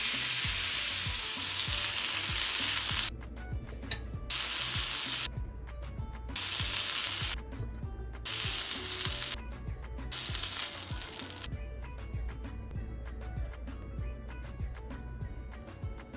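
Chicken shashlik sizzles steadily in a pan over medium-low heat, with bursts of louder, hissing frying that alternate with quieter spells of crackling and clatter.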